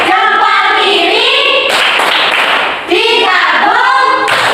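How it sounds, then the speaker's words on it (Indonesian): A classroom group claps in unison for group 3 during a teacher-led lesson. The short burst of hand claps interrupts the teacher's loud, close speech, and a brief second burst comes at the end. "tepuk tangan untuk kelompok 3"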